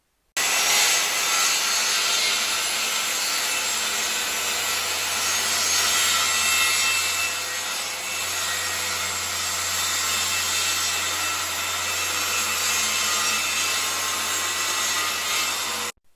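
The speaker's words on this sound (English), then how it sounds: "cut this hardwood plywood into 4 pieces diagonally" A circular saw makes diagonal bevel cuts through hardwood plywood, giving a loud, continuous whining roar that holds steady for about fifteen seconds with a low motor hum beneath it and no talking.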